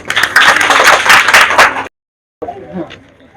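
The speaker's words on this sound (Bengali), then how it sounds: "ওর জন্য একটা করতালি" An audience of students at a rural high school prize quiz in Bagerhat, Bangladesh, claps loudly together for about two seconds, then falls briefly silent before some softer sounds.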